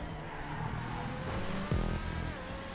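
Fully tuned Dominator muscle car in GTA Online racing, with a loud continuous engine drone that shifts pitch sharply partway through, like a gear change or bump, and brief tire noise.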